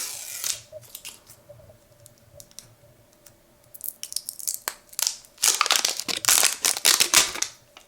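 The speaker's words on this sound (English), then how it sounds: "There's a little plastic here I need to open." Thin plastic packaging is torn and crinkled open at close range, starting with faint scattered rustles and building into loud, dense crackling bursts over the last few seconds.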